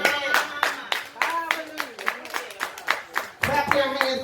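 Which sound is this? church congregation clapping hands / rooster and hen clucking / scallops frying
church congregation clapping hands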